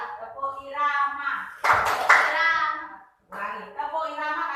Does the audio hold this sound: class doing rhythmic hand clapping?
yes